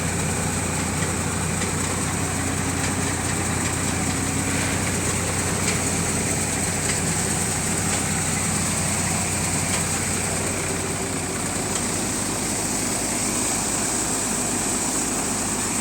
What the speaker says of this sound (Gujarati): બિલકુલ લોડ ફ્રી ટ્રેક્ટર ચાલે છે